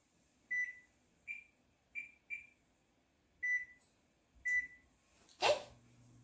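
A KitchenAid oven being set to 400 degrees gives six short, clear electronic beeps at uneven intervals, followed by a louder brief clunk.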